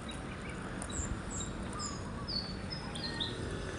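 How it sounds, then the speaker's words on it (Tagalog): Birds chirping and insects droning among big trees near a highway outside Davao City, with short high bird calls repeating over a steady hum of insects, and no voices. "Narinig mo dito tunog ng langgam, ibon."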